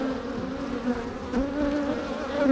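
Dark Caucasian-type honeybee drones buzz steadily up close, a continuous droning hum with wavering pitch that rises and falls slightly as individual bees move near the listener, alone without speech.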